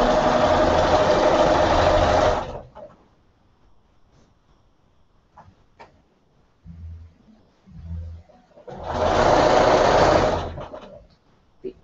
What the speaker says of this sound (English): I'm going to sew the other end due to here while I'm at it.